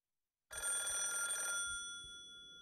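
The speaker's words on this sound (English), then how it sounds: "why are all the rotary phones constantly ringing?" A rotary telephone bell rings in a video game, bursting in abruptly after a moment of silence, loud and sustained with a bright metallic trill that slowly fades, no voices over it.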